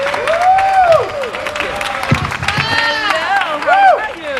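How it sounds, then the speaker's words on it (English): Outdoor crowd at a Jordanian flag raising ceremony in Yonkers claps and cheers for a city council leader, with moderate applause mixed with whoops and voices over several seconds. "Let's give a nice round of applause to our majority city council leader, Tasha Diaz."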